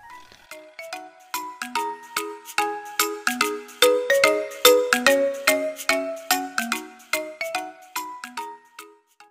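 An in-app advertisement plays inside a free messaging app, bringing a bright, bell-like jingle of quick tinkling chimes that rises and falls in a busy melody for several seconds. It is heard alone at moderate volume.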